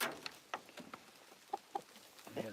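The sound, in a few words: white rooster among chickens at night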